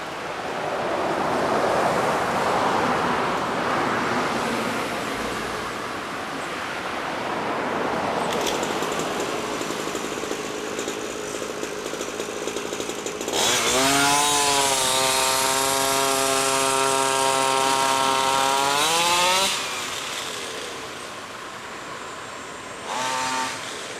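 A Goped scooter fitted with an ADA clutch runs on a short ride, a rough buzzing two-stroke engine that revs up sharply midway into a loud whining rise, then drops back, with wind rush throughout.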